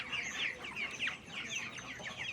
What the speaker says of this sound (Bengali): আমার মুরগিগুলো মোটামুটি সুস্থ